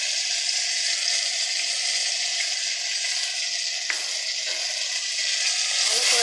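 Ground cumin and chili paste sizzle in a pan as they are sautéed for a soybean dish, a steady close frying hiss with occasional stirring scrapes.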